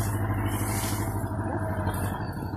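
A heavy tractor engine rumbles steadily and close by, a loud low drone with a hissing high wash that swells and fades as it drives past in a village street.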